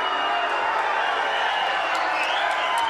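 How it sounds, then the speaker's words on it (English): A boxing arena crowd applauds and murmurs in a steady, dense roar that fills the whole moment, with faint scattered whoops rising above it. "The crowd applauding."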